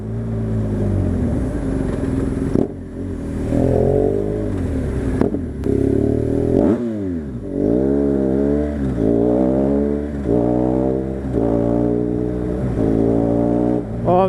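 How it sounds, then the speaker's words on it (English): A BMW GSA motorcycle's boxer engine idles and revs close by, with deep, throaty rising and falling blips repeating steadily after a brief lull, alone without talk. "I know it's a boxer engine and they're not great"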